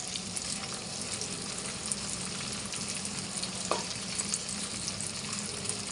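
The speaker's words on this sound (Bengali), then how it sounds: "একসাথে সব ভাজা হয়ে যাবে" Garlic and dried chillies fry in a pan of oil, giving a steady close sizzle with light crackle that stays even throughout, no talking over it.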